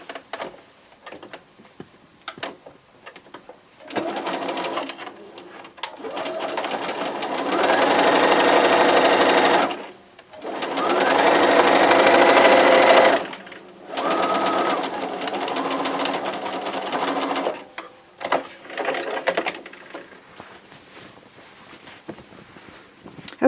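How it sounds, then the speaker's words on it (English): A sewing machine stitches a quarter-inch seam across a quilt block in two steady runs of close whirring, each a few seconds long, with short pauses and fabric handling between them. "we're just going to line it up and sew a 1/4 inch seam"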